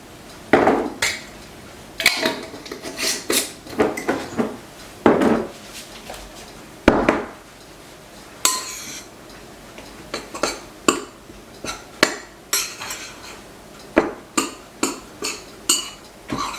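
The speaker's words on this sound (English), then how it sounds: "So I'm just mixing all those dry ingredients together in this bowl so that they're mixed up well." Dry ingredients with cinnamon being stirred together in a bowl, a spoon scraping and clinking against the dish in quick irregular strokes, close and clear, with no talking.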